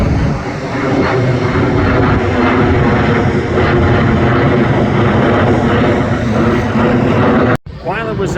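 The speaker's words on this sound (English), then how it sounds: "I took some pictures of the planes taking off" A KLM airliner takes off at Schiphol Airport, its engines a loud, sustained roar heard close up for about seven seconds, followed by a brief cut and a short stretch of quieter sound.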